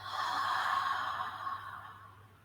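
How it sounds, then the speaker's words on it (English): A slow, steady breath out through the mouth during a guided shiatsu and energy-work class, close and soft, a single long airy exhale that fades gradually. "And breathing out through the mouth."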